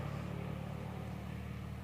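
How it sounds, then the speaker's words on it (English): A BMW race car engine running in the pit lane at Kuwait Motor Town during a 12-hour endurance race, a steady low drone held at moderate, even loudness with no voices. "BMW in the pit lane"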